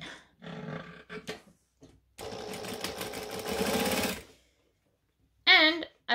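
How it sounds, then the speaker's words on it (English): Sewing machine stitching a vinyl accent strip onto a bag: a steady mechanical run of about two seconds, with short stops and starts before it and a voice after. "I'm going to put this on here and stitch it"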